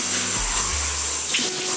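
Shower water runs in a home bathroom, a loud, steady hiss of falling spray with a low hum from the plumbing beneath it, and no one talking.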